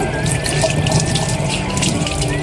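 Water runs steadily from a kitchen faucet, splashing into the sink with a close, continuous hiss and faint scrubbing as the tap is cleaned, with no voices over it.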